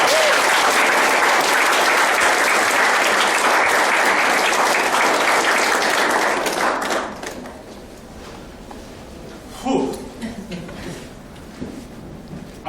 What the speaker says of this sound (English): help me in welcoming, with thunderous applause, the founder of our club